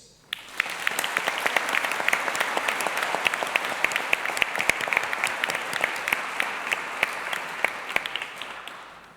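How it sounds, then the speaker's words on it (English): A graduation ceremony crowd of graduates in gowns and hats gives sustained, dense applause that swells quickly and holds steady for several seconds before tapering slightly. "Let's start today's ceremony by giving every one of you a big round of applause."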